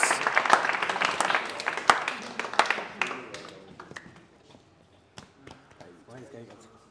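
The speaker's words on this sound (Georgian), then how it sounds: "აპლოდისმენტები ჩვენს მებრძოლებს" Audience clapping for MMA fighters at a GAMA Fury press conference, a burst of sharp, uneven claps that is loudest at the start and thins to scattered, sparse claps by the end.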